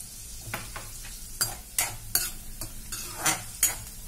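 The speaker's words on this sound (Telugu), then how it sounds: "ఇలాగా మనం దోరగా ఈ నట్స్ ని వేయించుకుంటున్నాం కదా" Nuts roasting in a pan for poha payasam, a spoon clanking and scraping against the metal in irregular sharp strokes, about eight distinct hits over a soft background sizzle, close and alone.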